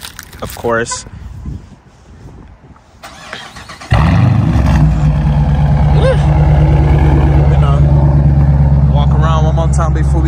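A Dodge Challenger RT with no resonators and no mid muffler fires up on a warm start, catching with a sudden loud burst and then settling into a deep, steady idle rumble nearby, with brief talk heard before it starts.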